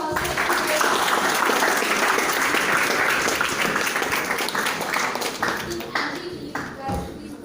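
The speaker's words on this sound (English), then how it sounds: "Please give them a big round of applause." Audience applause at a law-tech hackathon in Malaysia: a dense, sustained burst of many hands clapping, steady and loud, that thins out slightly toward the end.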